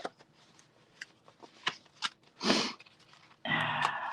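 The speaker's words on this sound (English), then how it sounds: "I want one of the playing cards. See if I can find them in my stack here" Playing cards are thumbed through in a small stack, giving sparse sharp flicks and taps, then a louder papery riffle and a sustained brushing slide near the end, heard close and alone.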